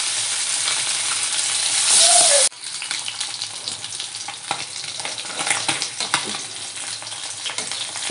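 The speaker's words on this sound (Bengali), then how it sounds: "এইভাবে বাকি মাছগুলোও ভেজে নেব" Tangra fish frying in hot oil for a light potato and eggplant curry, a loud steady sizzle that drops abruptly about two seconds in as fish are turned or lifted, then crackles on with stirring and spatter.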